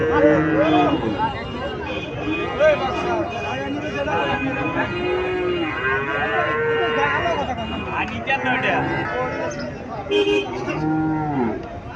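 A local cow moos repeatedly at a busy cattle market in Bangladesh, its drawn-out lowing calls rising over a steady murmur of crowd chatter and someone talking close by.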